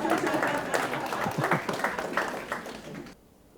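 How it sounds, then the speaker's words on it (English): A seated audience at a talk gives a round of hand clapping, a scattered patter of claps that holds steady and then fades out abruptly into near silence. "Give him a hand clap."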